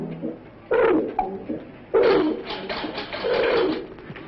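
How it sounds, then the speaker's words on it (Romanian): Pigeons on a city apartment balcony coo in several close, loud bursts with pauses between them, and no voices are heard. "Înțelegem și pasiunea pentru porumbei"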